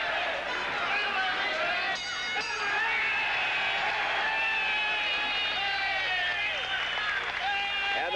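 A boxing crowd roars and cheers steadily at the close of a bout between Edwin Curet and Livingstone Bramble, a dense, loud wall of voices with some clapping running unbroken throughout.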